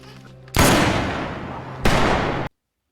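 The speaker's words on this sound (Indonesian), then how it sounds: "Karena suara tembakan sangat keras" Two loud, close gunshots from a zombie film, the first long blast ringing out for over a second before a second report hits, then sudden silence.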